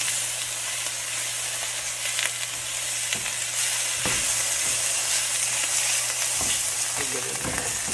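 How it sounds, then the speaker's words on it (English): Tomato paste sizzling in a hot pot while being stirred, a continuous frying hiss broken by several sharp scraping strokes of the spoon against the pot. "Get tomato paste stirred up."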